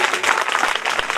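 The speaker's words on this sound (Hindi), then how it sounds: "एक बार जोरदार तालियां बजाएं इनके लिए।" An audience at a village katha gathering in Dashrathpur claps in a dense, loud burst of applause for about a second.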